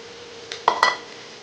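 Potatoes are added to fried onion masala in a metal pan for potato bonda, heard as a few sharp clinks and knocks of a utensil against the pan over a quiet steady background hum.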